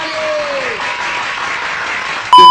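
A dense burst of applause from a large crowd fills the whole clip as a steady, loud wash of clapping, ending in an abrupt electronic tone.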